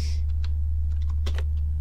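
Scattered computer keyboard keys clicked in short, uneven bursts while playing the game Rakuen, set over a steady low electrical hum.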